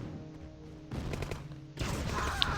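An ion cannon strike in the real-time strategy game OpenRA, heard as a sudden crackling blast that swells in two stages into a dense, sustained roar of explosive noise.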